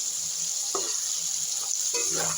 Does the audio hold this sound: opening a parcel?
no